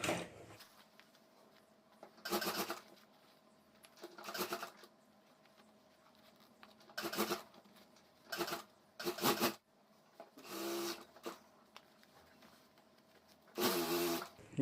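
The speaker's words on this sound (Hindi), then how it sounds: "यहाँ से हमें सिलाई शुरू करनी है, तो यहाँ से मैं सिलाई शुरू कर देता हूँ।" Sewing machine stitching a school bag, running in short bursts of whirring separated by pauses, close and moderately loud.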